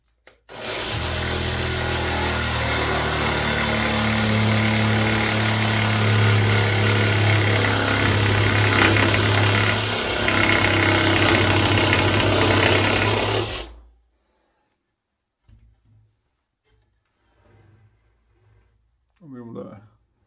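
A Parkside PSSSA 20-Li A1 cordless reciprocating saw runs loud and steady for about thirteen seconds while cutting, then stops abruptly, leaving near silence with a few faint handling knocks.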